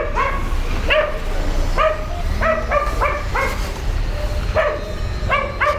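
A dog on a street barks and yips in quick bursts, several sharp close barks repeating in clusters, some with a whimpering edge, over steady outdoor background noise.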